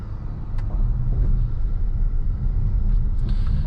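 A 2021 Dodge Charger GT's engine rumbles steadily up close as the car pulls away, a low continuous drone with a faint whine above it.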